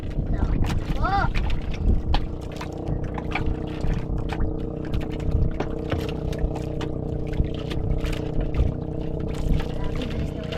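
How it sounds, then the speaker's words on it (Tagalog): A fast motorboat passes on open water with a steady engine drone and rushing water, buffeted by wind noise on the microphone; background voices are faintly audible. "Grabe, bilis ng bangka."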